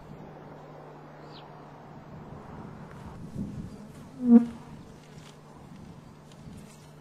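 Bees buzz steadily around beehives kept by blind and partially sighted beekeepers, supplying honey for mead. A faint, continuous drone runs throughout, with one brief louder buzz passing close by midway.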